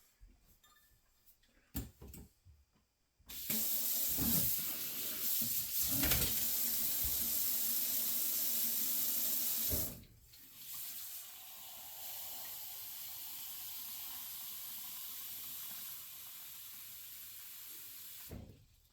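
Tap water runs steadily into a sink for about six seconds, measuring out two cups for rehydrating dry ingredients with venison. A softer, quieter flow continues afterward, with small clinks before and after and no talking.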